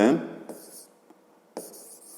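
A pen writes numbers on paper while a fifth-grade maths exercise is solved. There are two short, close scratchy bursts of writing separated by a quiet pause, and a voice is heard briefly at the very start.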